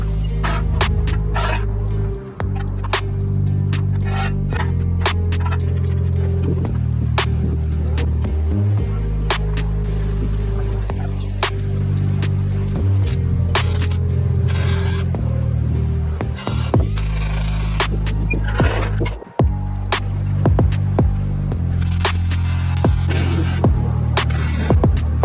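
Steady buzzing and crackling from welding an exhaust system onto a Honda CR-V under a lift, with a constant low hum running the full length and short breaks between weld passes.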